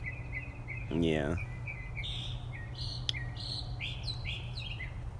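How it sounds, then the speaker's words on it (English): Birds chirp and tweet in short, repeated high calls against a low steady hum, fairly close, while a voice briefly speaks once. "I love listening to the birds chirping."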